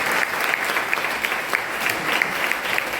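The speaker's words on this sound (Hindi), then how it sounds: "एक बार जोरदार तालियां उनके लिए।" A crowd at a ceremony honouring freedom fighters, held alongside an art and rangoli competition, gives steady, loud, continuous applause.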